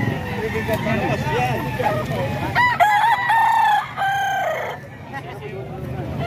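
A banded gamecock in San Jose del Monte, Bulacan lets out a clear, loud crow midway, with other fowl and clucking around it and people talking over a busy background.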